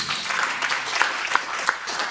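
A church congregation claps steadily, a dense wash of applause filling the whole moment with a few sharper claps standing out.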